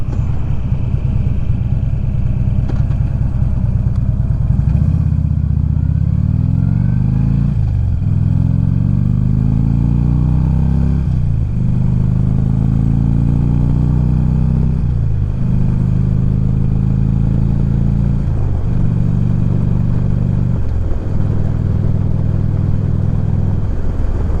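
A motorcycle engine runs loud and close, then rides off, revving up through several gear changes with rising and falling pitch over a steady, heavy drone.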